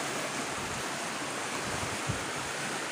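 Lagaslasan river runs in a strong rushing current, a steady broadband wash of water that stays fairly soft and even throughout, with no voices.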